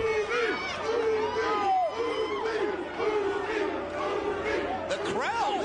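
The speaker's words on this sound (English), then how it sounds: "The crowd, listen to this. It's a mixed crowd." A mixed crowd at a TNA wrestling match cheers and chants, a loud sustained roar of many voices with shouted tones rising and falling throughout, and a sharper burst near the end.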